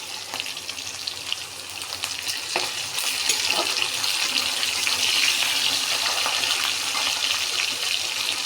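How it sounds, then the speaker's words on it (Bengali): Crushed garlic cloves hit onions already frying in a pan, and a steady close sizzle swells louder after the garlic goes in, continuing unbroken with no talk. "পেঁয়াজগুলো একটু ভাজা হয়ে গেছে, এখন এর মধ্যে দিয়ে দেব 2-3 কোয়া রসুন"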